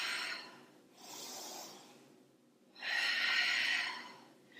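During a strength exercise, a person breathes audibly close to the microphone: a breathy exhale, a softer intake, then a longer, stronger exhale, with no words spoken.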